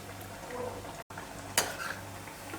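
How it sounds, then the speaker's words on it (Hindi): Poha kachori deep-fries in hot oil with a faint, steady bubbling sizzle, broken by a brief dropout and one sharp metal clink from a utensil, heard close and quiet with no talking. "कचौड़ी को हम चेक करेंगे और थोड़ा इसे हम ब्राउन होने तक फ्राई करेंगे"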